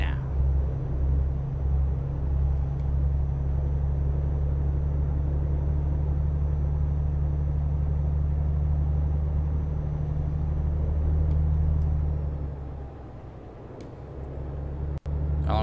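A truck engine in Euro Truck Simulator 2 drones steadily on the highway, a low, continuous rumble that stays constant before easing off near the end.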